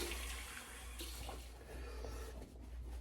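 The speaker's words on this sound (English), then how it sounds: "Now what I'll do is I'm going to rinse off with cold water" Cold tap water runs and splashes in a sink while someone rinses off after a shave, a steady, fairly quiet gush with small shifts in the flow.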